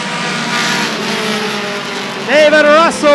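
Short track race cars roar around Rockford Speedway in a steady, loud engine drone, with a higher revving car passing close near the end while a race announcer talks over it.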